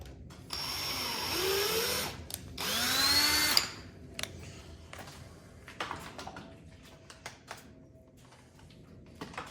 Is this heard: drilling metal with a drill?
yes